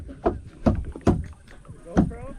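Kayak paddle strokes dipping into water, four distinct splashes and swishes at an uneven pace, close and moderately loud, with a voice briefly heard over the water.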